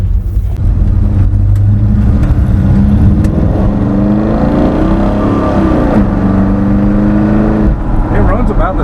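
A car engine with a smaller carburetor fitted revs steadily nearby, its pitch climbing and sweeping through several throttle blips over a constant mechanical whir, with some voices in the background.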